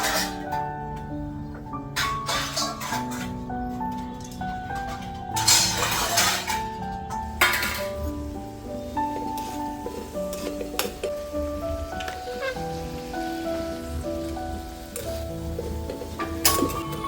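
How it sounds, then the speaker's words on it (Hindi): Dishes are wiped and put away from a basket in a home kitchen, giving scattered clinks and clatters with brief ringing tones at irregular intervals, a louder burst midway, and no talking. "इसके अंदर से मैं सारे बर्तनों को पोंछ करके और इनकी जगह पे इनके घर इनको पहुंचा दे रही हूँ।"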